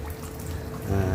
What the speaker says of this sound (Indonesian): Mesinnya sudah saya pasang, masuk stop kran, airnya sudah bekerja dan ini sudah keluar.